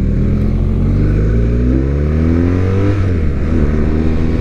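BMW R1250R motorcycle engine, a 134-horsepower boxer twin, pulling hard under acceleration, its deep steady drone rising and shifting pitch with a gear change near the end, loud and close throughout with no voices.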